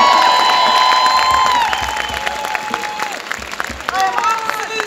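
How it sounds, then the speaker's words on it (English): A protest march crowd in Dublin city centre applauds and cheers for the Homeless Coalition chairperson, with loud clapping, whoops and shouts, and a high whistle-like cheer at the start that settles into ongoing applause. "Give her a big round of applause,"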